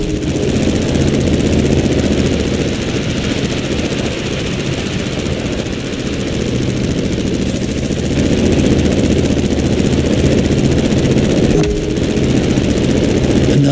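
Loud, continuous buzzing drone of a small airplane engine in the racing video game The Crew Motorfest, with a rattling low-pitched roar that swells slightly partway through.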